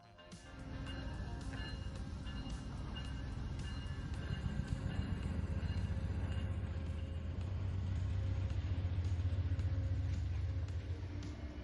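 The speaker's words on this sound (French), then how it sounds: "le train 42 démarre son retour vers New York City" Amtrak Pennsylvanian train 42 pulls away from Harrisburg station bound for New York City, a steady low rumble of diesel engine and rolling stock that builds gradually and holds at a loud, continuous level throughout.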